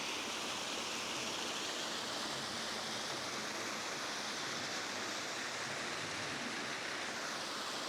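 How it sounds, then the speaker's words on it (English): A small trickling waterfall runs over eroded rock in an early-winter campsite setting, a steady, even wash of water noise without a break and with no voices. "Just a little baby trickle waterfall that you can see just based on the erosion in the rock"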